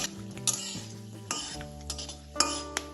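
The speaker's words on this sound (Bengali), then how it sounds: "ফোড়নটা তেলের সাথে একটু নাড়াচাড়া করে নেব।" Dried red chillies, bay leaves and whole garam masala spices sizzling in hot oil while a metal spoon stirs and clinks against the pan, with a low steady hum underneath and no talk.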